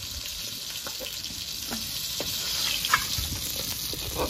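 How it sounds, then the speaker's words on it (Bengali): Rohu fish sizzles steadily in hot oil close by, with occasional soft pops and stirring sounds over the constant frying hiss. "মাছগুলো লাল লাল করে ভেজে নিয়েছি দেখো বন্ধুরা।"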